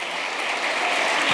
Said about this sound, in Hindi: अरे यादव जी के लिए जोरदार ताली बजाओ